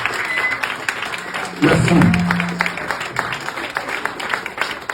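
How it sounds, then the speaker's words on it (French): An audience at a ministerial event in French applauds the minister, a steady patter of clapping that swells briefly near the middle, with someone speaking over it. "On peut acclamer très fort."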